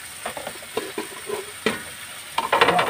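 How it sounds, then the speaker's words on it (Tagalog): Sardines sautéing in a pan give a soft, steady sizzle with scattered clicks and scrapes of stirring, growing louder and hissier toward the end. "Gigisay natin."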